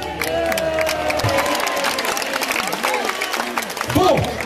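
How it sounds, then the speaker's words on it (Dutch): Festival crowd applauding and cheering for the festival poet Didier at an outdoor music festival, a steady wash of clapping with scattered shouts and talk mixed in, swelling near the end. "Mag u applaus voor onze festival poet"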